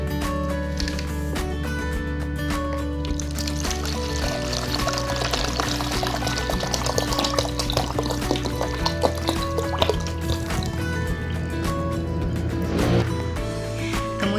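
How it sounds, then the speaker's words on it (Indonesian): One liter of water is poured into a container while a household disinfectant is being mixed, giving a continuous splashing pour over steady tonal background sounds, with no talk. "Kemudian kita tuangkan dulu air 1 liter yang sudah kita siapkan"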